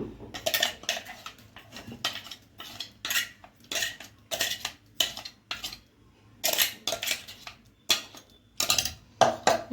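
Ground corn is mixed into soaked semolina in a bowl with a spoon, making a series of irregular clinks and scrapes against the bowl. The bursts are close and crisp, separated by short quiet gaps.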